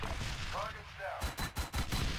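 Soldiers opening fire in the video game Arma 3: a quick burst of several sharp gunshots in the second half, following brief quiet chatter, all fairly faint.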